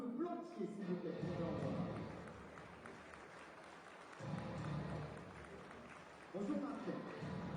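Audience applause greets the Carglass operations director as he comes up to present awards at the 2019 French windscreen replacement championship prize ceremony. A broad crowd wash rises and falls under steady talking throughout.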